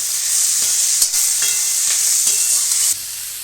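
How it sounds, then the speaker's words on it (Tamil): Onion, garlic and curry leaves sautéing in a hot pan, a loud bright continuous sizzle with a few sharp stirring knocks scattered through, heard close with no voices. "வெங்காயம் வதக்கிக்கலாம்"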